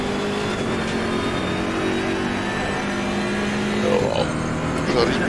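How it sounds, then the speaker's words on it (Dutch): Roaring car engines in a racing video game set in Mexico, a steady loud revving drone with rising and shifting pitch throughout, swelling near the end, with faint voices underneath. "ik heb van die brullende motoren hier"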